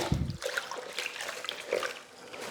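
A sponge rinsed in water while cleaning excess grout off floor tile, with close sloshing and dribbling, a brief squeeze at the start and then a lighter trickle.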